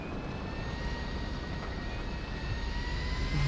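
A steady airplane engine drones in GTA V, a continuous even roar with a faint tonal whine running through it, heard alone with no talk.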